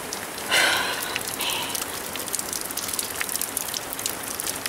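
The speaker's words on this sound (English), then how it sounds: "you can hear it, how heavy it is falling on my roof." Heavy rain drums steadily on a conservatory roof, a dense close hiss filling the whole stretch with a brief louder gush near the start and no voices.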